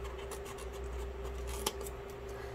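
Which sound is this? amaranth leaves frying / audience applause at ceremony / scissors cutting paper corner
scissors cutting paper corner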